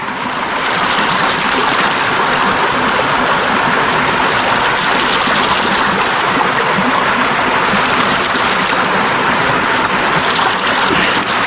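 Water rushes continuously through a gold prospecting sluice at a Wicklow stream. The flow is loud, broad and steady, with no pauses.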